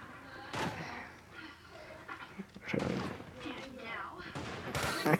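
Gunfire in the Creative Destruction battle royale game, several sharp bursts of shots at intervals amid game noise, with a player talking over and between them.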